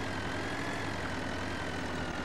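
Tractor engine in Farming Simulator 2013 during ploughing, a steady low drone holding evenly throughout with no talk over it.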